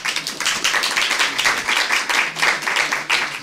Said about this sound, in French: j'ai vu des gens qui voulaient applaudir, vous pouvez y aller